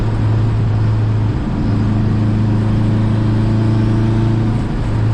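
Turbocharged Honda H22 engine pulling at half throttle, a steady mid-pitched drone that rises slightly in tone as it accelerates, heard up close from inside the car with no talk.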